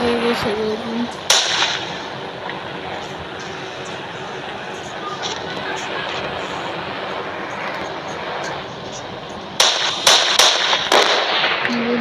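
Explosive barrels blowing up in the mobile game Indian Bike 3D during a zombie apocalypse mode: loud sharp blasts near the start and a cluster of several bangs near the end, over a steady hissing game-engine drone.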